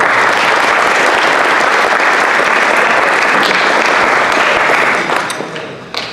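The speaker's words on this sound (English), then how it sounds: "Please give them a round of applause." A large audience applauds basketball team managers at a hall-of-fame induction ceremony, steady dense clapping held loud for about five seconds before tapering off.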